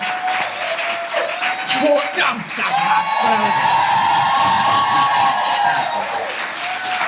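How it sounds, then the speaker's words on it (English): Audience applause with whoops and cheers at a live Wizarding World comedy show, a dense, loud crowd roar building and holding, with a voice over it at first. "Give everyone a round of applause."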